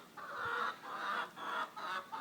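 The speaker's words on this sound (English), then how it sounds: "The Rhode Island red's noisy." Rhode Island Red egg-laying hens at a coop clucking loudly in repeated drawn-out calls, about four rising bursts in a row, close and alone without talk.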